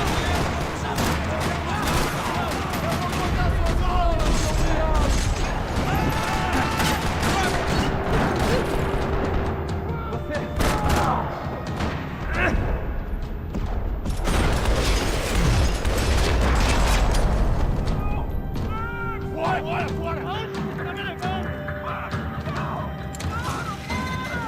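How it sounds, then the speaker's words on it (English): Heavy gunfire rattles through a parking lot in the video game Max Payne 3, with rapid bursts and shots, mechanical clatter and booms coming in dense waves and a voice speaking between them. "Another parking lot rattling with gunfire."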